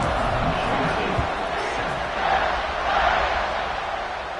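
Stadium crowd in a football video game roars steadily at kickoff, a dense, continuous wash of cheering that swells slightly midway and stays loud throughout.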